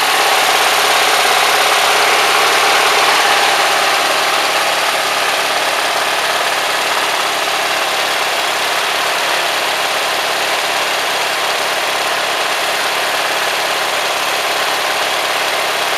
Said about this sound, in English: Running it on vapor, which is good for the motor